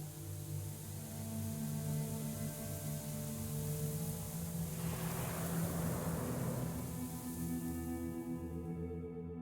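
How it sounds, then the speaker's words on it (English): Murmur of the Chornaya River in the Black Book game, heard in darkness: a steady, low, even rush of flowing water with a faint tonal hum beneath and a brief swell midway, no voices. "The murmur of the Chornaya River can be heard amidst the darkness."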